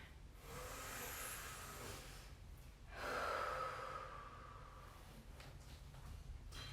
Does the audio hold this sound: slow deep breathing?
yes